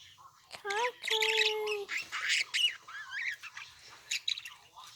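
A young gray, black, white and blue budgie squawks and chirps in a busy run of close, shrill calls and warbling tweets, with a person's voice faintly in the background.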